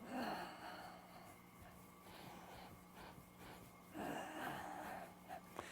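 Audible breathing during a slow qigong exercise, with soft gasping inhales and exhales close to the microphone over faint room noise and a low steady hum.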